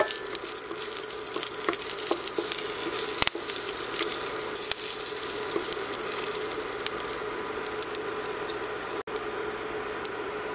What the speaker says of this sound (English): And few pinches of hing. So fry this for 1 or 2 minutes.